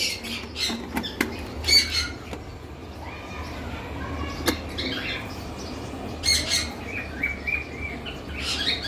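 Pet birds such as sun conures, lovebirds and cockatiels on a home balcony give sharp repeated squawks and chirps in irregular bursts, some close and loud, over a low background murmur.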